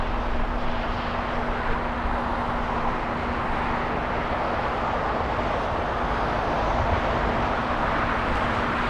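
A Boeing 777 airliner arriving from Paris lands at LAX, making a steady, broad jet roar that holds at a constant level throughout with a faint engine hum beneath it.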